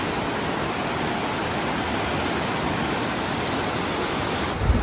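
The flooded Alaknanda river in monsoon spate rushes past the Devprayag confluence with a loud, unbroken roar of churning water, close by and steady throughout.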